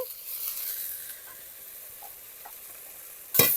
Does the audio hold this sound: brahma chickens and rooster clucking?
no